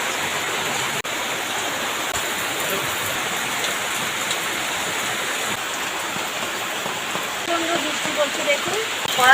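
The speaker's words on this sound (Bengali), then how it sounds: "প্রচণ্ড বৃষ্টি এসে গেছে" Heavy rain pours down in a steady, loud, unbroken hiss that fills the whole stretch, with the roar swelling slightly toward the end.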